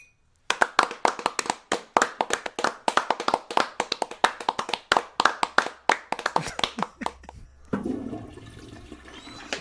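Someone claps in an office, a long brisk burst of dozens of fast, close hand claps, ending abruptly as a rushing, water-like noise takes over.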